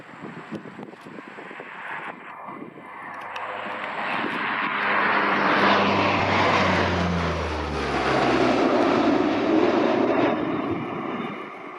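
A Royal New Zealand Air Force C-130 Hercules makes a low airshow pass at Omaka, its turboprop engines swelling from a distant drone to a loud, sustained roar overhead before easing slightly, with no talk over it.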